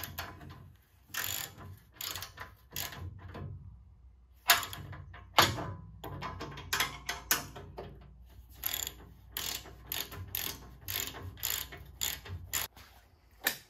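Ratchet snugging down bolts on a Datsun 280Z, close, quick clicking bursts in repeated spurts with short pauses, alone without talk.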